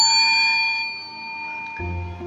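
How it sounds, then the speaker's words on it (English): A bright notification ding rings once and fades out slowly, followed by a soft low thump near the end, with no talk. "make sure that you ring that little bell"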